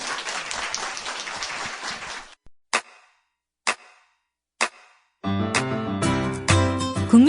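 Lecture audience applauds Kim Jong-dae after his talk on military security, a brisk burst of clapping lasting about two seconds, then a few isolated sharp knocks and a music jingle.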